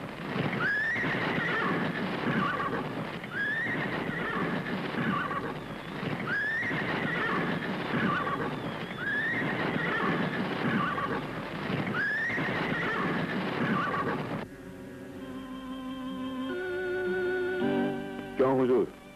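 Horse neighing in a classic 1979 Hindi film scene, with repeated whinnies recurring every few seconds over a busy soundtrack, followed by a musical passage near the end.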